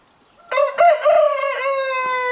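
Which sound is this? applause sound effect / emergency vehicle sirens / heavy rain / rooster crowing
rooster crowing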